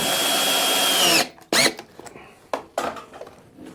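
A power drill whirs steadily as it drives screws into a wooden water wheel, then stops, followed by short bursts and bumps of wood and tools, close and loud.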